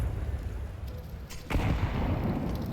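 A grenade detonates in Counter-Strike 2 during a pro match: one sharp, loud blast partway through, with a rumbling tail over a low, noisy game background.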